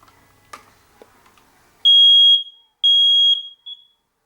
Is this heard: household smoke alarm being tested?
yes